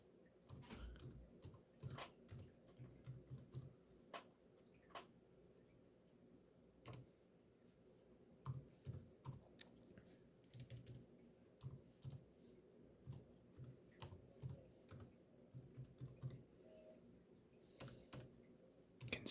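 Typing a password on a Dell Latitude D430 laptop keyboard, a quiet run of close, irregular key clicks and taps that carries on steadily with brief pauses.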